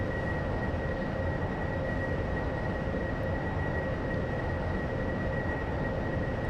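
AV-8B Harrier jet engine in the DCS flight simulator, throttled up for a vertical takeoff with VTOL flaps, a loud, steady broadband roar with a sustained high whine, close and unbroken throughout.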